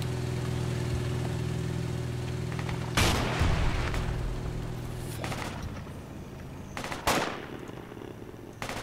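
Mortar rounds fire in a video game: several sharp, booming blasts at irregular intervals, two close together near the end, over a low engine rumble that fades after the first shot.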